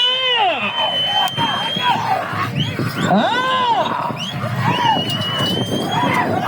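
A crowd cheers and whistles at a rural bullock pulling race in Badripalle, with loud rising and falling whistles over a continuous roar of voices.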